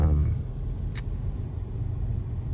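A classic car rumbles past on a road, a steady close low engine and tyre roar filling the short stretch, with one brief faint click partway through and no talk.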